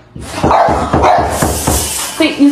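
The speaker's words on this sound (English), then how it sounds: "That's why my dog sitting here barking." A dog barks repeatedly and loudly at close range indoors, six or so sharp barks in quick rhythm, ending with a short higher yip or whine.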